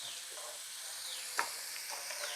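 Elephant foot yam pieces fry in oil, giving a soft, even sizzling hiss with one sharp clink midway, quiet and close.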